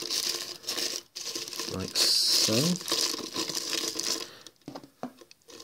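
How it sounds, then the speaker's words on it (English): A piece of ordinary white plastic bag crinkles and rustles as it is stretched over the open edge of a Pringles tin, close and fairly loud, in bursts under and between a person's speech. "So get a piece of normal white plastic bag, place it over the edge of the Pringles in"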